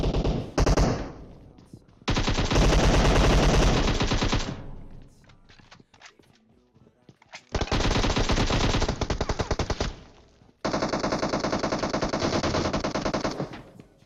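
Bursts of automatic gunfire in the PUBG Mobile battle royale game, three loud sustained volleys of rapid machine-gun shots separated by brief quieter gaps.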